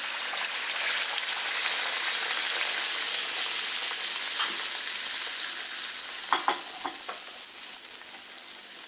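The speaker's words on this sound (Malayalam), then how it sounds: "ഡീപ്പ് ഫ്രൈ ചെയ്താണ് എടുക്കുക." Rice flour and egg batter deep-fries in hot oil with a loud, continuous bright sizzle close by, with faint clinks of a utensil near the end.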